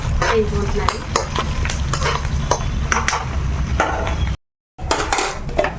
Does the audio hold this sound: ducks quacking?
no